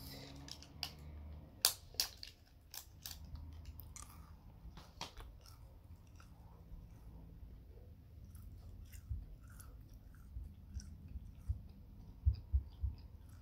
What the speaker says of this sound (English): I'll put some gum in my mouth. This is dentine ice.